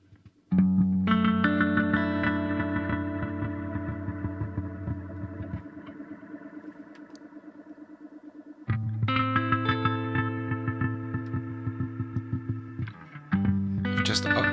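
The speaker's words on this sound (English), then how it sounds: "Now let's re-engage the delay and the reverb without the octave." Sustained electric guitar chords through a BOSS GT-1000 Core ring out with echoing delay repeats and a reverb wash, two strummed passages separated by a brief dip, loud and alone.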